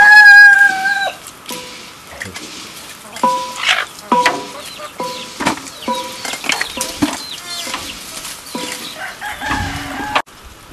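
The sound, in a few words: rooster crowing and clucking in northern Togo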